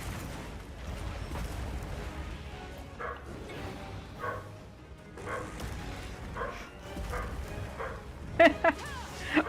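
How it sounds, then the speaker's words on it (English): Several dogs bark repeatedly in short, sharp bursts over a steady background noise, with a louder cluster of barks near the end and talking underneath. "now they're just barking because they're afraid to stop barking"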